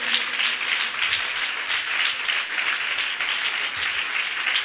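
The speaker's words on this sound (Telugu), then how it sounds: "ఒకసారి గట్టిగా అందరూ చప్పట్లు కొట్టండి" A church congregation at a resurrection worship service claps loudly together, a dense, sustained wash of applause filling the room for several seconds with no speech.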